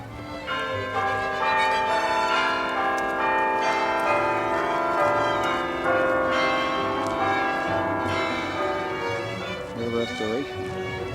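Church bells ring from the Alexander Nevsky Monastery bell tower, a rich overlapping peal of sustained, resonant tones with struck accents, loud and continuous, with voices faintly beneath.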